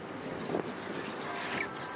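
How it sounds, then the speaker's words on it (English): Strong, steady wind roars across the exposed Falkland Islands in summer, a continuous broadband rush with gusty swells and buffeting against the microphone, no voices. "It's still windy."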